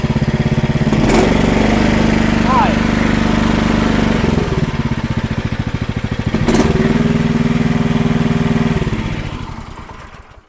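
Small gasoline engine of a cheap Chinese mini skid steer running after starting, a loud, close, steady chugging idle with brief revs and clanks, then fading down at the end.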